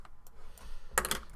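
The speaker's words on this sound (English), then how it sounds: "Here, I'll type it out." A few quick keystrokes tap on a computer keyboard, faint isolated clicks followed by a brief, louder cluster of typing.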